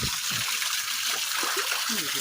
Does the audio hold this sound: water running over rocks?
yes